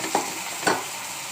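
Masala being stirred in a pan after a few spoonfuls of water go in, for a carrot pickle-style masala: two soft scraping strokes with a faint simmering hiss beneath, close and quiet, with no talking.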